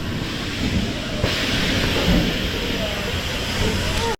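An empty Pipeline roller coaster train running at SeaWorld Orlando, heard as a steady, loud rushing roar with a hissing, rattling rail rumble that holds for about four seconds.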